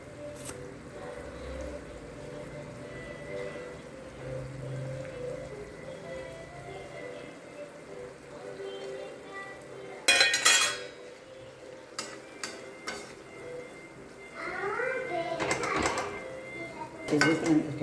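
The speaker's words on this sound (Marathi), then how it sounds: "आता हे बांगडाचे काप ह्यामध्ये घालून" Dried mackerel pieces are dropped into a pan for a chutney and stirred, bringing scattered metallic clinks and scraping of utensil against pan alongside soft background noise.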